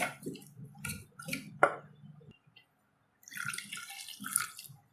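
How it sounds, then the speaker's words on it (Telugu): Water is poured and ragi flour dosa batter with sour curd and cumin is mixed with a whisk, giving soft intermittent splashing and wet stirring, quiet and close, in short bursts with pauses. "దోశకు సరిపడే విధంగా కలుపుకోవాలి నీళ్ళు పోసుకొని."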